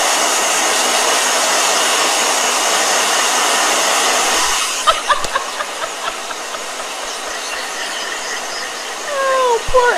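A loud, steady blow dryer whooshes for about five seconds, then cuts off, leaving a few quieter scattered sounds.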